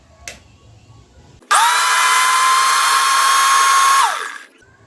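An electric blender whirs loudly and close for about two and a half seconds while blending a mixture with a little oil, starting abruptly and winding down at the end, with quiet room noise before it.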